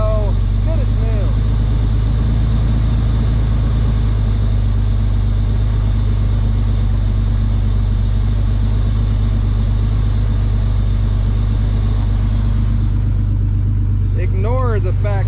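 An old International truck engine that has sat in a yard for years with a tree growing through it runs steadily after a battery swap, a loud, constant low rumble close by, with people talking over it.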